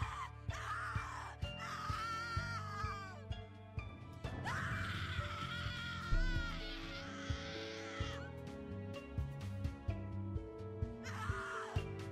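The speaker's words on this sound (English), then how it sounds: "That scream is stressing me out." A woman screams and wails in anguish in the horror adventure game The Cat Lady, long rising and breaking cries repeated over a dark, droning game soundtrack with occasional sharp knocks.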